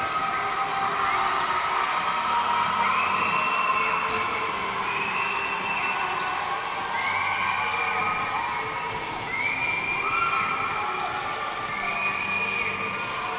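An Egyptian crowd behind the net cheers after a goal in a women's gold medal final. High shouts and whoops rise and fall in repeated waves over a steady crowd roar, heard from a distance.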